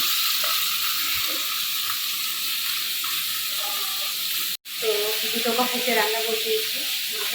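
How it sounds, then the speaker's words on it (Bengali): Fish fries in oil in a wok, a continuous hissing sizzle broken by a brief dropout, then a voice speaks faintly over the frying. "মাছ ভাজা করছি"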